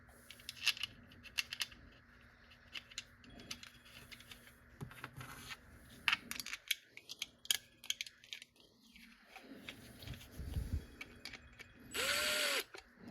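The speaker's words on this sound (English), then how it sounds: "Now we're just going to start these screws in by a couple of threads." A power drill drives screws in while installing a clip adapter, with short whirring bursts, ratcheting clicks and small metallic taps, ending in a louder sustained whir; a voice is heard faintly at times.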